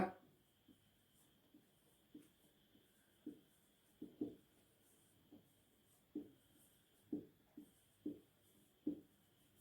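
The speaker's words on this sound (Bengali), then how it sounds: "লিখে দিচ্ছি হেডিংটা।" Chalk writes a heading on a classroom board, a series of short scratchy strokes and taps at irregular intervals, faint and close, with no talk over it.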